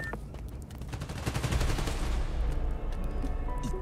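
A dense, rapid burst of gunfire from the Spider-Man Miles Morales game rattles on without a break, loud and close, like a machine gun firing at electrical transformers.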